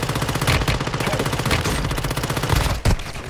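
Rapid automatic gunfire rattles in close, dense bursts in the mobile shooter Warzone Mobile, with a sharper pair of shots near the end and no speech.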